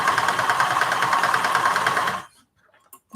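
A sewing machine stitches steadily onto a fabric leader ender, a close, rapid mechanical whirring chatter for about two seconds before stopping abruptly, followed by a couple of faint clicks.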